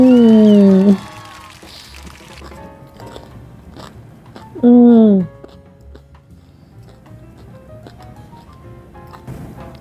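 Close, crisp crunching as corn tortilla chips loaded with homemade guacamole are bitten and chewed, with two brief bursts of speech breaking the steady crunching.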